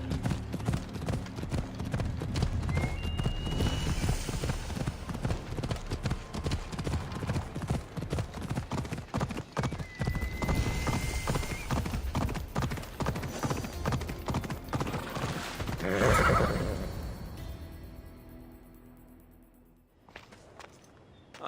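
Hooves clip-clop steadily from a horse in the Assassin's Creed Odyssey video game, a dense walking rhythm that carries for most of the span, with a brief whinny near the end before the sound fades.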